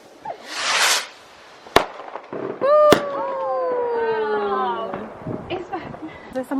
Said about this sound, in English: We've got fireworks!